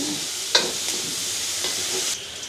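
Onions with green and dried red chillies fry in a pan, giving a steady, close sizzle with a few sharp scraping stirs over it and no voices.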